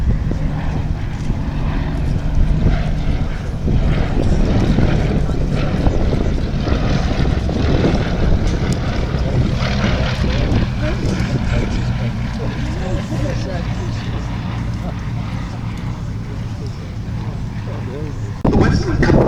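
A pair of Westland Lysander high-wing propeller monoplanes fly a display at the Duxford Battle of Britain airshow, their engine drone droning steadily and loudly throughout, with a commentator talking over the sound on a public address.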